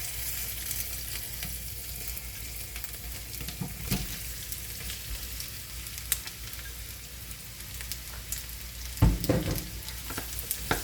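Fenugreek seeds soaked in milk roast in a pan over low heat, giving a steady soft sizzle and frying hiss with a few brief stirring scrapes and clatters near the end.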